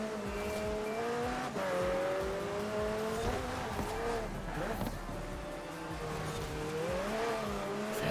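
Porsche 964 RWB, a rear-wheel-drive build, driven in the racing game Forza Horizon 4: a steady engine drone with gear-shift pitch changes runs throughout, with brief tyre noise midway.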